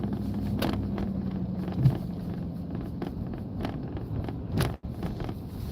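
A car on a cold, windy winter drive home gives a low, steady road rumble from inside the cabin. Faint bumps and one sharp dropout break the drone, and no voices are heard.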